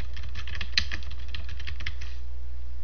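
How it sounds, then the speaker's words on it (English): Steady typing on a computer keyboard, a quick run of light clicking keystrokes over a low constant hum, with no voices. "Type in the name of the category."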